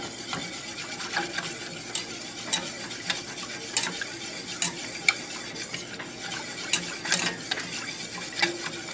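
Whisking a lasagna sauce in a pan over medium heat as it thickens: steady, soft scraping and ticking of a whisk against the pan in quick repeated strokes, fairly close and moderately quiet, with no voices.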